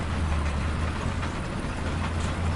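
A tank engine rumbles in a video game, a steady, loud, low drone that runs without a break and with no speech over it.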